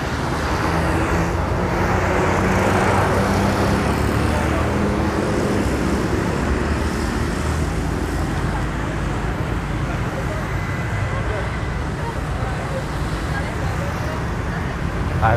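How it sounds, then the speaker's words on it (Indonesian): Busy but free-flowing road traffic in Purworejo, Indonesia, on a main street near a bus terminal: a steady, dense roar of passing vehicles fills the whole stretch, loud and continuous without pauses. "Terlihat lalu lintas ramai lancar."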